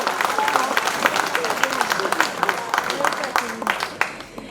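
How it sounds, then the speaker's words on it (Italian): An audience at a fashion and archaeology show applauds young Sardinian dancers with dense, steady clapping that stays close and lively throughout, a voice faintly heard under it. "Fategli ancora un grandissimo applauso"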